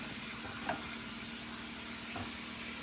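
Veal chops browning in a pan with olive oil, butter and sautéed onions, giving a steady, close sizzle and crackle throughout, with a couple of brief louder pops.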